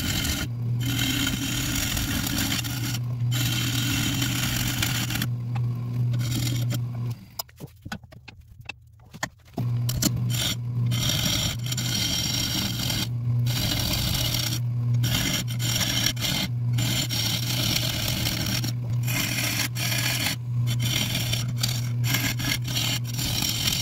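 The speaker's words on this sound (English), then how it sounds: "Took me quite a while to get the bowl rounded out, even with the Carter & Sons tool I was using" A tool cuts a large sissoo live-edge bowl spinning on a lathe, a continuous scraping rasp over a steady motor hum, broken by brief regular gaps and one longer pause near the middle, with no voices.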